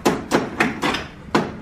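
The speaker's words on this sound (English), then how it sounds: "hit this with a hammer" Five sharp metallic hammer blows strike a loosely fitted car gear shifter on a 600hp D-16 engine build, spaced irregularly, close and loud with no talking.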